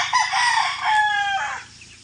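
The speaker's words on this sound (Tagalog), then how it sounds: "Dito lang muna tayo nag-aalpas ng mga sisiw natin" A loud, close rooster crows once in a long, drawn-out call on a gamefowl farm, followed by a short tail and then quiet.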